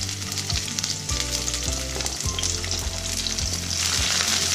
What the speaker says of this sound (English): Add chopped garlic and saute it for a while. Next, I'm going to add diced onion.